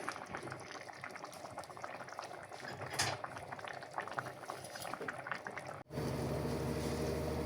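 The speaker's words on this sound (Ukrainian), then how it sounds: "Так, накриваю кришечкою і даю ще доваритися. Водичка має вся википіти" Basmati rice for plov simmers in a covered pot, giving a dense, steady bubbling and crackling from close by, with a brief clunk near the end as the lid shifts, after which a fuller hiss continues.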